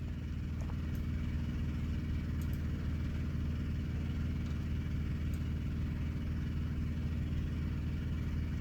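A semi truck tractor's diesel engine runs with a steady, loud low rumble as the rig starts to move, a continuous droning throb with no voices over it.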